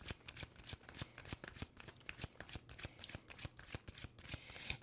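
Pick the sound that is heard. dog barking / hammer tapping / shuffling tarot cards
shuffling tarot cards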